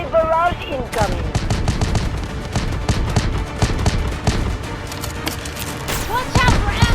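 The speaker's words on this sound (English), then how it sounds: "Artillery barrage incoming." Gunfire, explosions and an artillery barrage in the Delta Force Mobile shooter game: a dense, continuous string of sharp shots and booms with a radio-style voice and other game speech over the top.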